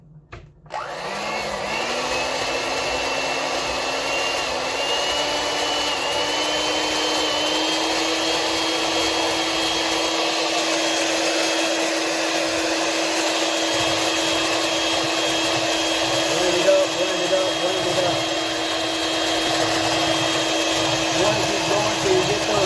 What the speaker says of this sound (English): or you can get yourself your blender out